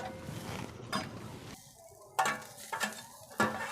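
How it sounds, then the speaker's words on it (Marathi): Grated coconut roasts in a pan over a wood-fired stove, added after onions for a chicken gravy. A low sizzle is broken by several sharp, uneven scraping stir strokes, heard up close. "खोबरं एक पाच मिनटं थोडं लालसर होईपर्यंत आपण त्याला भाजून घेऊयात"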